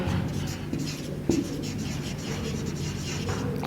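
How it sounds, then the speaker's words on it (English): Handwriting on paper, answers being written out during a grammar lesson, with a steady low scratch of pen strokes, one brief tap near the middle, and the room's hum beneath. "let us write the answers"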